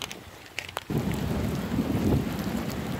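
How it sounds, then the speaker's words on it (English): Steady outdoor rain hissing loudly and close for a few seconds after a brief quieter start with a few clicks. "It's raining."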